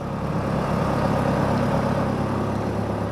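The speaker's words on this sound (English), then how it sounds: "My neighbour has got his generator on." A steady generator engine drone runs throughout from next door, a low continuous hum like a motor idling nearby, with no voices.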